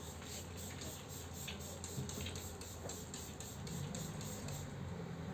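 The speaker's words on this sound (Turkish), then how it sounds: "Uygulamayı yaparken şu şekilde camı önce spreyliyorum." Rapid, regular squirts from a trigger spray bottle misting water onto window glass hiss in a steady rhythm, close by, with a low hum underneath.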